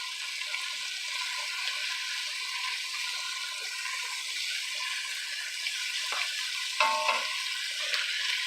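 Meat with salt and black pepper sizzles steadily in a cast iron pan, and a wooden spoon scrapes and stirs it, knocking against the pan now and then near the end.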